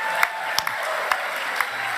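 A crowd applauding and cheering at a political event, a brief burst of dense clapping with scattered sharper claps, moderately loud and without talk.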